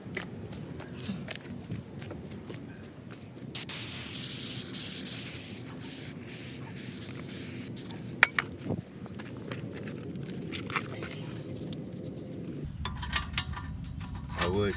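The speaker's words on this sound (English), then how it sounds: "I'm gonna go clean it off with some brake cleaner." Brake cleaner sprays in a long, loud hissing burst onto a small spindle nut from a 1994 Acura Integra wheel hub, followed by shorter spray bursts and a few metallic clinks in a garage.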